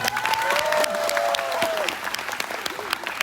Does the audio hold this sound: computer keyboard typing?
no